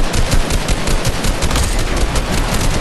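Video game gunfire roars in a heavy, unbroken stream of rapid machine-gun bursts for the whole stretch, loud and close, with no voices.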